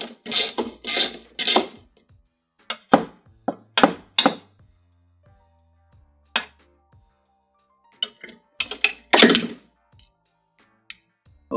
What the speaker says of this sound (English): take this bolt going across here loose